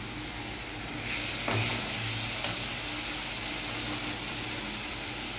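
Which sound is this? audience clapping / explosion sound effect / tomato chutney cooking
tomato chutney cooking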